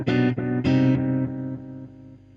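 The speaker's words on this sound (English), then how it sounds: "when you blend back in the dry, it just sounds like a normal guitar" An electric guitar running through a Cheyne Sirius parallel blender with delay and reverb plays two or three quick chord strums, then one chord rings out and slowly fades, loud and alone.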